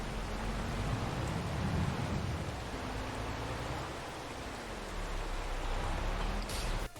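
Rain keeps falling across a farmyard as a continuous broad hiss with a low rumble beneath, steady and moderately loud, ending in a brief clatter near the close; no voices.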